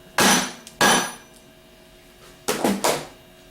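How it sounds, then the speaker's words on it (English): Hammer blows on a piece of 2x4 stock laid over a Valeo alternator shaft, hit while rebuilding the alternator: two sharp, loud wooden strikes, a pause, then two more, with no talking. "Lay a piece of stock 2x4 and hit it with the hammer."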